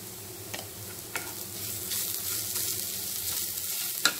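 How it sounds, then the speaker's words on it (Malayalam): Onions fry in a pan for egg bonda, a steady close sizzle with a few soft clicks of stirring, no voices. "ഉള്ളി ആവശ്യത്തിന് വഴന്ന് വന്നിട്ടുണ്ട്."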